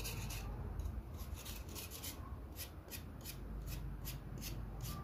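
A knife scrapes and peels the tough skin off a lotus stem, giving a steady close-up rasping rub with repeated short strokes and no talk.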